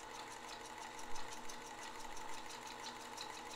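A Pfaff 1222E sewing machine stitches with a steady, quiet, continuous mechanical whir and faint rhythmic ticking throughout, with no speech.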